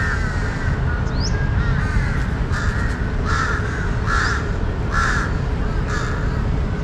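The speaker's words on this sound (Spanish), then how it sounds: "Miren, ahí están todos los cuervos." Crows cawing repeatedly in Lumpini Park, Bangkok, several harsh calls spread across a steady, loud urban park background with constant traffic-like rumble.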